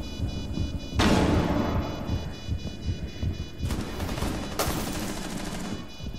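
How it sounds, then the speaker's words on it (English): A stun grenade bursts in a ranked video game match: a sudden loud blast at about one second, with further loud bursts of game noise later and a constant tonal ring underneath. "Stun grenade out."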